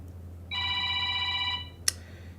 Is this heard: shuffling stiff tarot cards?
no